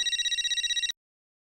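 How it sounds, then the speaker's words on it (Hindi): A mobile phone rings loudly and close for an incoming call from a private number, giving a rapid pulsing electronic trill that cuts off abruptly into silence, with no voices over it. "किसका फोन है?"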